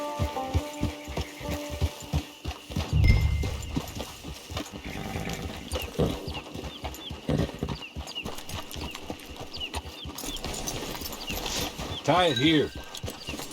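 Horse hooves clip-clopping at a steady walking rhythm in the Western video game Red Dead Redemption 2, close and continuous beneath game character dialogue and a brief whinny.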